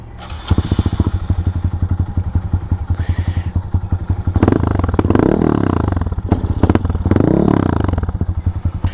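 A Honda Monkey motorcycle with a 181cc big-bore engine and aftermarket exhaust idles with a loud, rapid, thumping exhaust pulse, revving up twice before settling back to idle.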